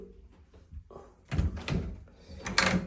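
A house door is opened, with a couple of clunks and rattles of the latch and panel at close range, quiet room tone around them.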